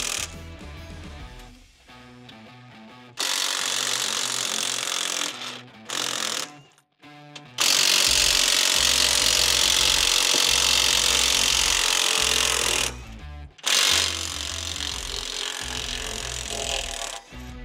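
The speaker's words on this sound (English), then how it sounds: "we need to remove the tension bar from the front of our mesh by undoing the four 24mm nuts on the back" Power tool undoing 24mm nuts on the tension bar of a Keestrack R3H screening machine: loud bursts of rattling impact hammering in several runs with brief pauses between, close and harsh, no talk.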